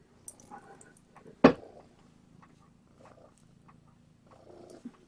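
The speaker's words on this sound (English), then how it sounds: "I think if you listen, you can hear him purring." A male cat purrs softly and close by, a low steady rumble that stays faint, broken by a brief sharp knock partway through and a few quiet rustles around it.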